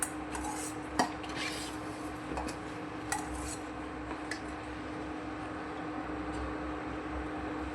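Metal spoons clink and scrape against a pot while raw mango jelly mixture is ladled out, with a few sharp clinks over a steady low kitchen hum and no talking.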